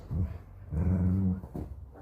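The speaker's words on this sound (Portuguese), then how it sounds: "Aí a dona fica dando essas rosnadas" Donnah, a dog, growls low and rumbling while playing, in several short bursts with brief gaps, close and moderately loud, with no talking.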